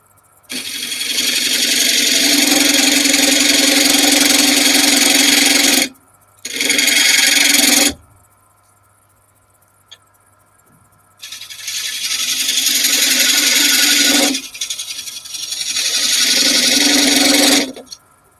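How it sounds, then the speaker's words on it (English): A power tool cuts a dovetail into wood in three loud rasping bursts, one long, one short and then another long one, with near-silent pauses between them. "make a cut so that you form a dovetail on the inside"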